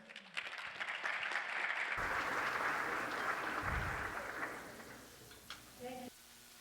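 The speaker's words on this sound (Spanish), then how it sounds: "Un aplauso para todos." At an infrastructure investment conference panel, an audience breaks into a steady wash of applause that holds for several seconds and then tapers off, with a brief murmur of voices near the end.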